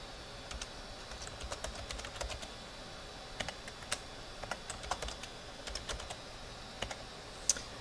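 Someone types a new password on a computer keyboard, producing a steady run of light, close key clicks in irregular bursts over a faint background hiss.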